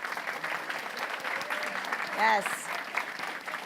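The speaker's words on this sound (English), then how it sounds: "can you stand and be recognized so that we can give you a round of applause?" An audience applauding parents at a school gathering, a continuous patter of clapping with a brief voice speaking over it partway through.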